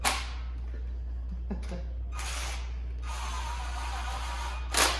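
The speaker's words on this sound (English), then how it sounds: "I don't always suggest running these down with the impact" Impact wrench running down head bolts on a destroked 6-liter engine in a garage, several short rattling bursts of hammering with quieter gaps between them, close and fairly loud.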